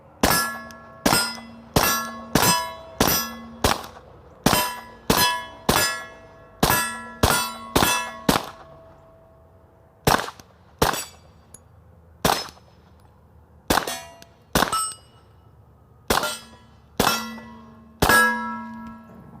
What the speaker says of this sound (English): this gun shoots so good